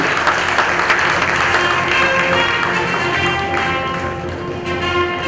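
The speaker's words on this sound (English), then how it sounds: "A huge round of applause please for Informatica Business Solutions Private Limited." An audience claps at an awards night ceremony, a sustained wash of applause with some music or tones underneath, loud and fairly even before thinning slightly at the end.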